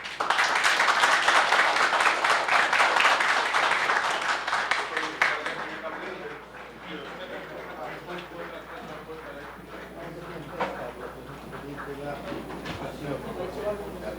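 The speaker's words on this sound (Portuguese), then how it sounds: "solicitar a todos os presentes uma salva de palmas ao nosso homenageado" Dense applause for an honoree fills a municipal council chamber in Criciúma, loud and close for about five seconds before thinning into scattered claps as a voice talks over the room.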